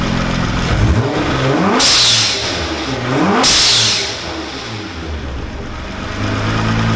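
A Nissan GT-R engine revs hard with a steady rumble, and two sharp bursts of hissing air from the blow-off valve cut through it a couple of seconds apart.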